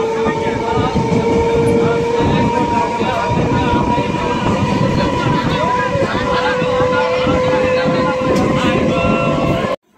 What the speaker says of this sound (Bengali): আমরা এখন সেই নবদ্বীপের পরে বিষ্ণুপ্রিয়া হল স্টেশনে চলে এসেছি। আমরা এখন ট্রেন থেকে নেবে